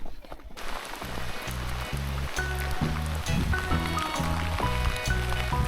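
Rain falls during a mountain hike on the Morskie Oko trail in the Tatra Mountains, Poland, as a steady, close hiss, with regular low, muffled thumps pulsing underneath.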